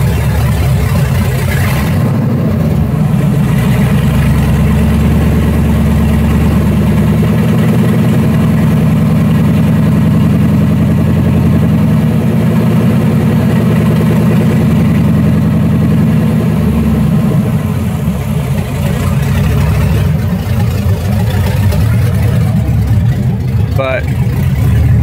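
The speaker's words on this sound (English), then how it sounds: "it just sounds like an old truck because, like I said, it's on just running the open headers at the moment." An LS V8-swapped Mazda FD RX-7 idles on open headers, giving a loud, steady, low rumble that holds for the whole stretch with little change in pitch.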